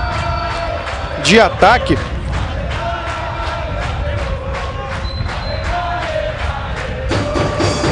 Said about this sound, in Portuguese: a torcida canta aqui, vibra bem embaixo da cabine